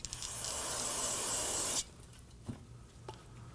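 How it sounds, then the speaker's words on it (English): Solvent sprays onto a newly fitted rear brake caliper on a 2015-2024 Nissan Murano in one steady, close hissing burst of nearly two seconds, followed by a few faint drips and taps. "Spray it down with some solvent."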